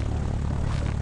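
Propeller airplane engine in the game Thirty Flights of Loving, a loud steady droning hum with an even low throb, heard close and continuous with no talk.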